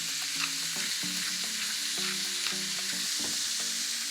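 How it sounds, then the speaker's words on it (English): Minced meat browns in a pan with onion, clove and cinnamon while a wooden spoon breaks it up: a constant bright sizzle, with soft wooden scrapes and knocks about every half second, close by and with no voices. "We're going to break that down just with your wooden spoon and coat it in that lovely onion mixture"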